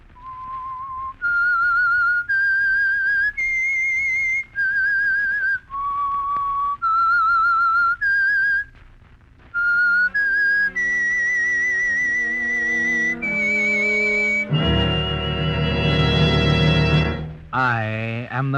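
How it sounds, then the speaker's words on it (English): Whistled theme tune of the radio show The Whistler, a clear solo melody of sustained held notes and short phrases, loud and close, rising into a brighter, orchestral-sounding swell near the end with no talking. "That whistle is your signal for the Signal Oil Program"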